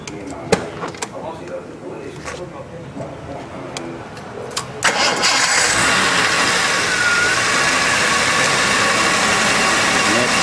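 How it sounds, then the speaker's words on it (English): An engine cranks and catches around the midpoint, then settles into a steady, fairly loud running drone after some faint clatter and knocks. "do you want to start it up for us, Jeff, so we can hear what it sounds like?"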